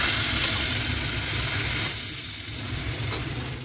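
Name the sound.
yogurt added to hot garlic and turmeric tempering, sizzling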